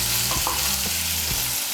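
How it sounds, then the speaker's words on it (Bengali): Chopped onions fry in oil in a pan for a Bengali rohu fish curry, a loud continuous sizzle with several clanking scrapes of a spatula against the pan. "পেঁয়াজটাকে লাল করে ভেজে নেব।"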